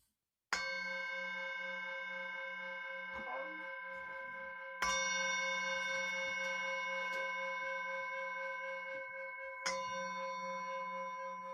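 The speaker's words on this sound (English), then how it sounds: "Now you're going to hear a bell ring 3 times." A bell rings three times, each strike a clear ringing tone with a long sustained decay, spaced about four to five seconds apart, alone over a faint steady background hum.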